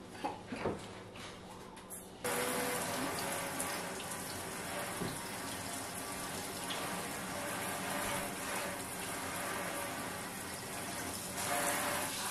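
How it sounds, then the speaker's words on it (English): Tap water gushes steadily into a homemade play dough mix in a kitchen, a continuous splashing flow that starts abruptly after a couple of seconds of faint clatter and runs on at a moderate, even level. "Add the water and the oil."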